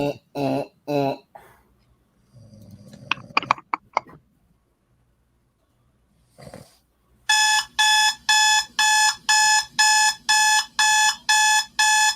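An alarm clock rings in a steady run of about nine loud, evenly spaced electronic beeps, coming after a few vocal sounds and short clicks and rustles.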